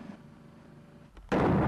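A sudden loud blast on an office wall during a blast test, a single heavy broadband burst that erupts abruptly after a quiet stretch and holds near full loudness to the end.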